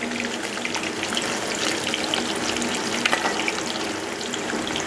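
Fish fries in a pan over medium heat, giving a steady, dense crackling sizzle that stays even and close throughout with no voices.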